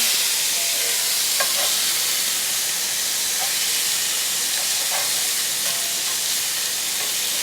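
A tuna steak sears in a hot pan just after flipping, giving a loud, continuous hissing sizzle with scattered small pops, close and without talk.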